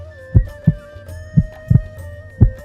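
Heartbeat sound effect, loud and close: deep, thudding pulses in a steady pounding rhythm, about five beats in under three seconds, over a soft sustained musical hum.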